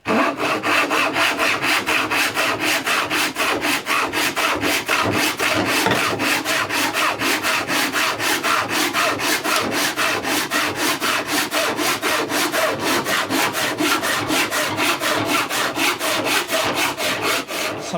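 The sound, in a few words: hand saw cutting plywood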